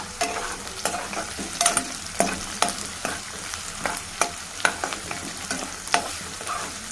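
Chopped onion and green chillies sizzle in hot oil with mustard seeds, cumin and fenugreek in a pan, under a steady crackle broken by repeated sharp scrapes of a spoon stirring, close and loud, no voices.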